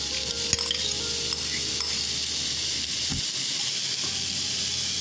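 Small pieces of peeled raw mango cooking in a kadai give a loud, continuous hissing sizzle, with a brief thump near the start and a faint low hum running underneath, with no talk.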